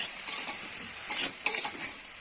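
Cauliflower pieces with salt and turmeric fry in a pan, a soft sizzle broken by three bright bursts of spatula stirring and scraping, close and clear.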